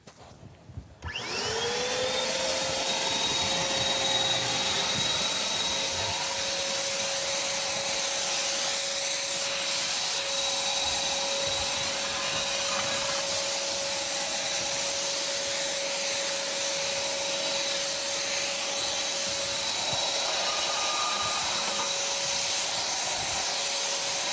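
A turbine spray system whines up and runs steadily for the whole stretch, a loud, continuous high-pitched turbine tone over a hissing rush of air, close by and alone.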